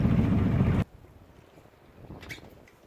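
A sailboat runs under engine power on a windless day. A loud, close, low rumble with wind buffeting lasts under a second, then drops away to quiet water and air noise.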